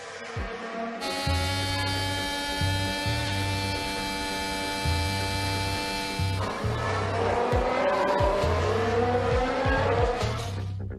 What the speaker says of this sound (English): Hamilton emerges well from the first turn and overtakes his rival with a daring maneuver on the outside of Sochi's fast bend.